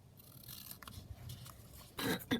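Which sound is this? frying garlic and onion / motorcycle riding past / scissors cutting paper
scissors cutting paper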